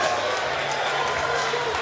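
Arena crowd roaring and cheering for a fighter known as the Punisher, Torrez Finney, as he walks out for his bout; a dense, steady wall of loud crowd noise with no pauses.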